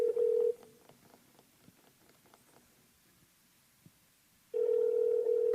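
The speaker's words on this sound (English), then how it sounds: "So my phone is calling." A mobile phone places a call, giving a steady tone that cuts off, then a stretch of quiet rustling before the tone returns loud and continuous.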